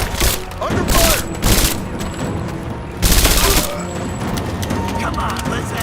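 Gunfire in the video game Rise of the Tomb Raider, bursts of rapid shots and booming impacts in several loud clusters, with shouting voices and battle noise between them.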